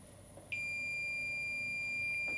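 Sustained electronic beep from a multimeter on continuity test while checking a heating wire, a steady high tone starting abruptly and holding to the end over faint room hum.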